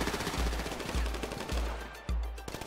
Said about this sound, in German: Oh, ich werd hier beschossen.